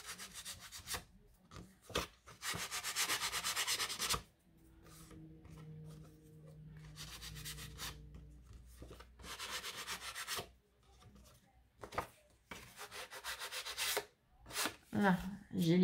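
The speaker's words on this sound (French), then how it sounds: "Là, j'ai limé les bords, comme ça au moins c'est nickel." Filing the edges of a lace Valentine card, heard as repeated rasping strokes in bursts with short pauses between them, fairly close and alone.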